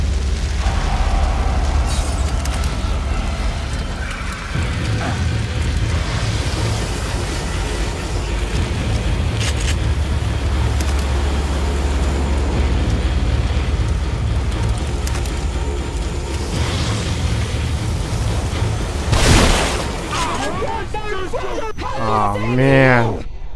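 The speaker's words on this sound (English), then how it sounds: "Oh, my incendiary bomb" An incendiary bomb in the survival horror game The Evil Within bursts with a loud boom, then a long crackling roar of fire that rumbles steadily for many seconds before a final flare and fade.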